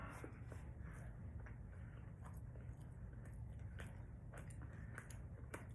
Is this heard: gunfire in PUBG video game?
no